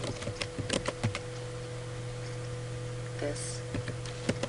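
Someone types a sample sentence on a computer keyboard, producing irregular clusters of close, crisp key clicks over a steady low electrical hum.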